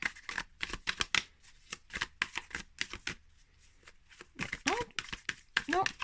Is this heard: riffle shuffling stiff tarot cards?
yes